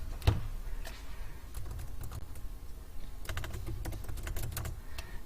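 Someone types a driver's license number on a computer keyboard, tapping out quiet, uneven bursts of keystrokes with short pauses between them.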